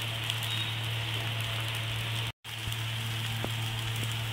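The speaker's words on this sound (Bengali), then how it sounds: "এবার 2 সাইড আমি ভালো করে ভেজে নেব।" A semolina roti fries in a pan with a steady soft hiss and faint crackle, broken by one sudden brief silence midway.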